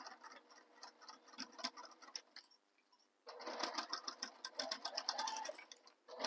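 A sewing machine stitches a seam on a tote bag in two bursts of rapid mechanical ticking, close and fairly loud, separated by a short pause.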